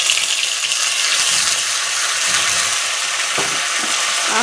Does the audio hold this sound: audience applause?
no